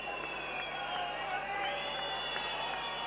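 Fans in a basketball arena in Rijeka at the 1991 Yugoslav Cup final between Pop 84 and Cibona send up a steady roar of crowd noise with cheering, heard behind a commentator's voice.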